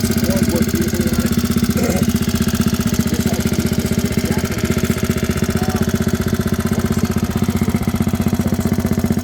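A 1965 Honda 50 motorcycle's small single engine idles steadily close by, a continuous putter with an even, rapid pulse and no change in pace throughout.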